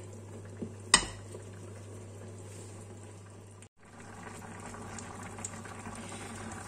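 Small shrimp cooking in a frying pan over raised heat give a steady bubbling sizzle, broken by a sharp clink of utensil against pan near the start and a brief dip midway.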